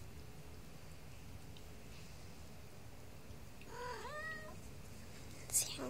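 A mother cat calling her kittens gives a few soft, sweet rising meows close by over quiet background hiss, followed by a brief sharp noise.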